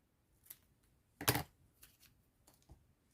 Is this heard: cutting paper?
yes